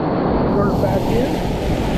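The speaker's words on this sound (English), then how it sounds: "you got the little breaking waves in this corner of this eddy." Rushing whitewater of breaking waves in an eddy on the Middle Ocoee river rapids, a loud, dense, steady roar of churning water close by, with wind buffeting the microphone.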